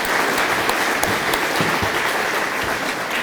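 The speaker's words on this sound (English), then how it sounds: "So let's give them all a big round of applause" An awards crowd at a tourism event in Texas claps in a dense, steady round of applause that holds at the same level throughout, with no voices over it.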